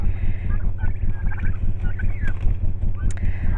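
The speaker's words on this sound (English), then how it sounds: "Turkey. Yep, they say hi." Turkeys gobble in a garden in a string of close, loud, rapid burbling calls that repeat throughout, with faint other noises behind them.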